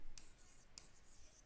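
Pen or pencil writing on paper during a rational numbers maths lesson, with two short scratchy strokes over a faint, quiet background.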